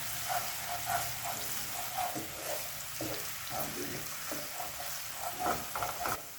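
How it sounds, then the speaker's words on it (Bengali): Ginger garlic paste fries gently in a pan over a low flame, a soft steady sizzle with occasional stirring scrapes running throughout, close and fairly quiet. "আদা রসুন বাটাটা গ্যাসটাকে লো ফ্লেমে রেখে 1 থেকে 2 মিনিট ভেজে নেব।"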